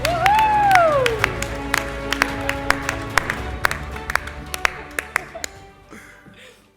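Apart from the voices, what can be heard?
audience cheering and applauding at an awards ceremony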